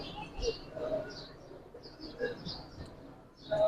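Giribaz pigeons coo softly at close range in short, repeated low calls, with faint chirps and light background noise.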